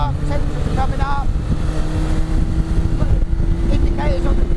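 A Yamaha R1 motorcycle engine fitted in an RX5 car warms up with a steady, continuous rumbling drone, with faint rising revs and some background noise throughout.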